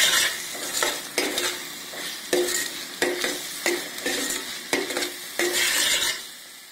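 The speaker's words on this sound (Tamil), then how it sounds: "சேர்த்து நல்லா கலந்து விட்டுணும்." A spoon scrapes steadily through sweet potato halwa with cardamom powder in a pan, about eight rhythmic stirring strokes over a soft sizzle, with no talking.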